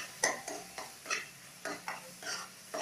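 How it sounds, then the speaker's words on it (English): A spoon stirs dry masalas for dal makhani in a pan, making a steady run of about eight rhythmic scraping strokes, close and moderately quiet, with a faint sizzle beneath. "stir it well so that the masalas, dry masalas, ooze out some oil"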